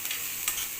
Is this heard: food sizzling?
yes